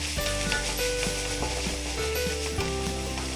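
Scrambled egg and vegetables stir-fried together in a wok for Indo-Chinese Hakka noodles, a steady loud sizzle with repeated scraping stirs of the spatula against the pan throughout.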